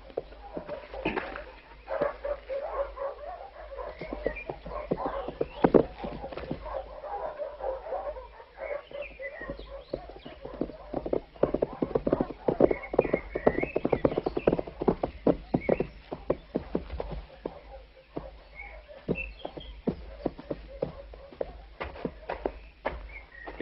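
Hooves of a horse pulling a carriage clip-clop in an uneven, continuous rhythm along a woodland path, moderately close, with a dog barking and whimpering intermittently alongside.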